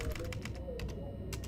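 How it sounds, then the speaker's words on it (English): Rapid keystrokes on a computer keyboard in bursts of clicks, close and fairly quiet, over a low steady background hum during a horror game session. "Oh my god, my typing."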